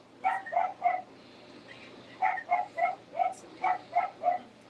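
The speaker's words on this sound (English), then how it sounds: "That's why the dogs are barking." Several dogs barking indoors at a door, in bursts of three and more sharp barks separated by short pauses, fairly close and loud.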